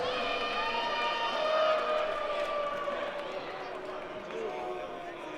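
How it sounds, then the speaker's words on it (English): A crowd at a slap fighting contest roars and cheers after the winner is announced, a continuous swell of voices at moderate distance. "Give a big round of applause"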